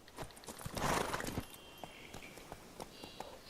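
Hooves of Roach, the horse in The Witcher 3, clop along at a quick pace, with a burst of louder movement early and then steady lighter hoofbeats, moderately faint.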